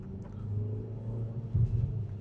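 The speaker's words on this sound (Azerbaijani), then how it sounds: "Sport rejimdə mühərrikin səsi daha çox gəlir." Geely Monjaro Hybrid 2025 SUV engine running in sport mode: a steady low rumble with a deeper swell near the end, heard close from inside the vehicle.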